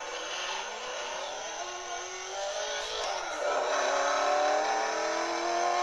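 A tuned Barton FR 50 moped pulls away, its small two-stroke engine rising in pitch and buzzing steadily louder for several seconds as it accelerates off.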